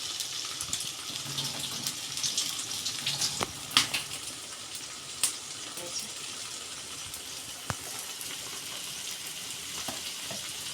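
Tap water running over four green chillies as they are rinsed by hand, a steady broad hiss of flowing water with a few sharp clicks and knocks, fairly close, no talking.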